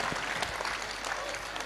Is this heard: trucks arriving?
no